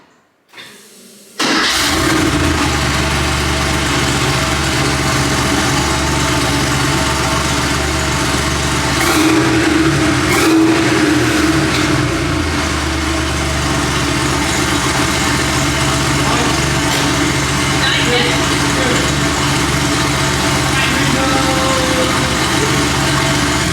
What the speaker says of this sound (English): one of the best things about this car is the way the engine sounds.